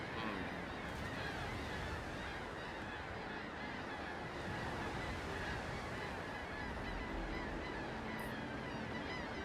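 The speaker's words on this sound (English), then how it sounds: "Quiet, seagulls. We don't want you." Seagulls in the pirate video game Windrose give honking cries over a constant roar of sea and wind. The birds sound faint and distant under a steady wash of noise.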